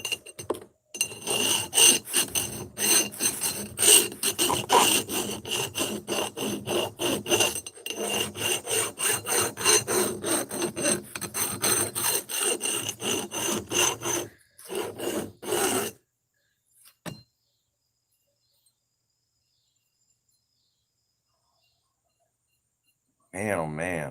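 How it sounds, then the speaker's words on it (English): An axe edge is worked with a hand file in repeated rasping strokes, a loud, close, rhythmic scraping that runs for about fifteen seconds, then stops, with a few isolated scrapes and long quiet afterward. "Gonna be a lot of grind. It's gonna be a lot of filing there."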